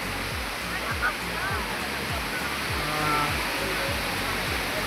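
Waterfall at Ayodhya Hills in Purulia, a steady broadband rush of falling water close by, continuous and loud for the whole stretch, with faint rhythmic low thumps beneath and no talk over it.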